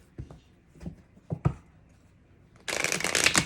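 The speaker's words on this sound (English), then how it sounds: "I'm just about to shuffle all my decks." Several faint taps and rustles are followed by a loud burst of riffling as tarot cards are shuffled close to the microphone, continuing to the end.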